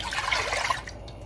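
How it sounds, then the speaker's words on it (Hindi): Milk, two cups, pours from a cup into a pot on a stove for rice kheer, a brief splashing liquid stream that tapers off after about a second. "ये 2 कप दूध इसमें जा रहा है"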